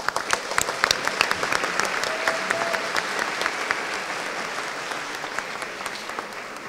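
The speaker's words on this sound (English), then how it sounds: "Let's give them a round of applause." Applause from a school-district audience honoring classified employees of the year, a dense steady patter of many hands clapping alone for several seconds with no talk over it.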